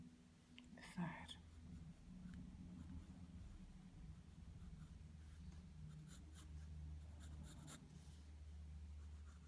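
A pencil held on its side shades across paper while a unicorn is drawn, giving a soft, continuous scratchy rasp in quiet strokes close up, under a low steady hum.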